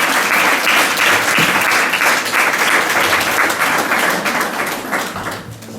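Congregation at a baptism applauding steadily, a dense, loud wash of many hands clapping that carries on throughout and thins slightly near the end.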